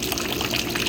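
Water gushes and splashes back out of a venturi pipe fitted to a tilapia tank, a close, continuous pouring flow with no speech.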